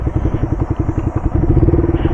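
Yamaha MT-15 motorcycle passing on a Sunday ride, its engine a loud, close, steady pulsing thrum with a rapid beat throughout.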